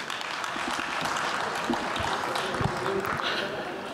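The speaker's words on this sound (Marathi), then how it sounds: "प्रसाद ओक यांच्यासाठी जोरदार टाळ्या झाल्या पाहिजेत" A crowd at a film trailer launch event applauds for actor Prasad Oak, a steady wash of clapping that holds evenly throughout with some voices mixed in beneath it.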